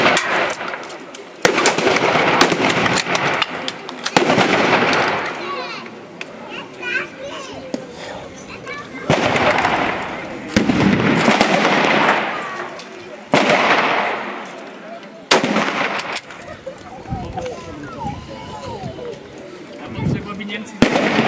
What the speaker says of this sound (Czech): rozhodně to kulomet.